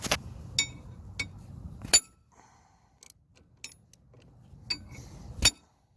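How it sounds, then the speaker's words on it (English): Hammer striking the end of an automotive crank pin fitted to a lawn mower, a series of sharp metallic knocks spaced irregularly, loud and close, with quiet gaps between hits. "So I'm gonna smack this end with my redneck hammer here"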